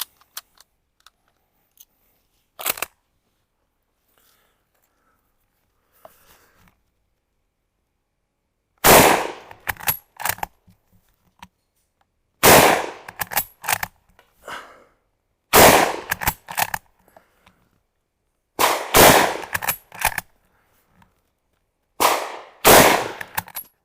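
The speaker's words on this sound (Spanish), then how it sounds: "vamos a disparar unos cuantos tiros para ir entrando en calor" Shots fired from a Portuguese Mauser-Vergueiro 1904/39 bolt-action rifle: a couple of isolated cracks early, then five loud bursts of sharp reports with echoing tails at regular intervals, no talking.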